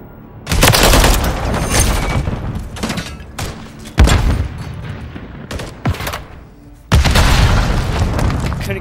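A frag grenade explodes amid gunfire in Call of Duty MW3, loud booming blasts and sustained rapid firing bursts with short gaps in between.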